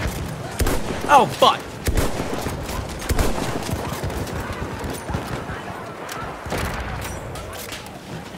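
Rapid gunfire from Battlefield 1 multiplayer crackles through most of the stretch, dense overlapping shots and bursts at close range, with a player swearing loudly over the shooting.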